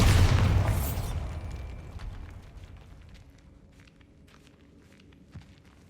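Bombarda explosion spell in Hogwarts Legacy: one loud, close boom at the start that decays over about a second into a low rumble, followed by quieter game ambience, scattered small clicks and a soft thud near the end.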